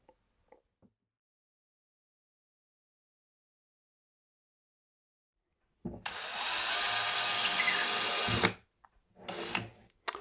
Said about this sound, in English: so we've drilled a pilot hole